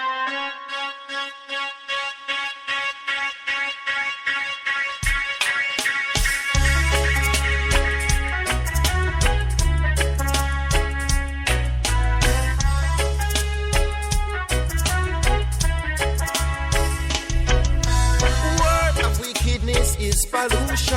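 A track plays as a full band recording, opening with a rhythmic plucked keyboard figure before bass and drums enter around five seconds, then a steady groove continues loud to the end.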